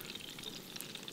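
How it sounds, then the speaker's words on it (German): Bacon sizzles and crackles steadily in a hot pan, a continuous close frying hiss with fine pops and no voices. "Warte. Bacon Brutzel."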